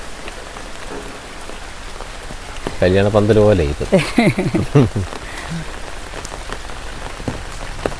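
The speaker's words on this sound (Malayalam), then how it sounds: "എങ്ങനെയുണ്ട് മഴ അടിപൊളിയല്ലേ" Heavy rain pours steadily throughout as a broad hiss, with a person talking briefly over it in the middle.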